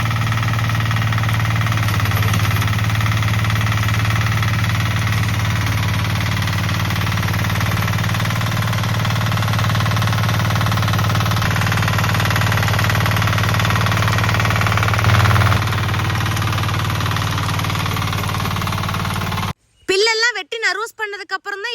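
Power weeder engine running steadily while tilling a vegetable garden, a loud continuous close drone that cuts off abruptly near the end, followed by brief voices.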